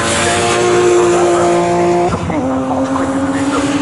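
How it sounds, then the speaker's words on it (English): Racing saloon cars, a BMW Z4 and a Ford Sierra Cosworth, howl at full throttle around Snetterton circuit, one engine note sustained loud and near before a sharp shift or lift and a second car's tone taking over, with no talk. "you've got to see the speed of both the Z4 of Jamie Jeffrey and the Tom Murphy Sierra Cosworth"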